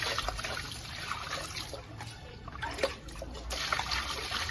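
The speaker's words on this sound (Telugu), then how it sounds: "ఇప్పుడు కొంచెం వాటర్ పోసుకున్నాం" Water is poured in while cleaning goat tripe: a close, uneven trickle and splash of liquid that runs for several seconds at a low level, with no voices.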